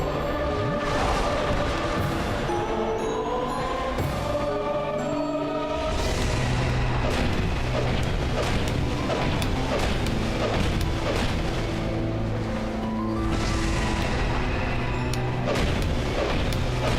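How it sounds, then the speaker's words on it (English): Repeated heavy booms and crashing blasts in Dark Souls 2, loud and layered over a droning game score, with several big impacts spread across the stretch and a dense tail of rumbling debris. "it's just got a massive and obnoxious range on that explosion"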